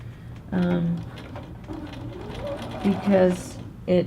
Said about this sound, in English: I am ready to go ahead and sew these folded edges together